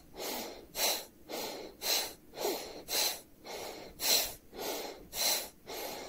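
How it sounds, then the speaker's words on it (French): Deep rhythmic breaths during a Taoist-inspired guided meditation, about eight even in-and-out cycles of airy nasal breathing, close and steady with no talking. "Inspire, gonfler, expire, rentrer."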